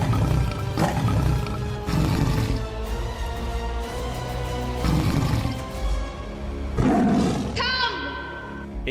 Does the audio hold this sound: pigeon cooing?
no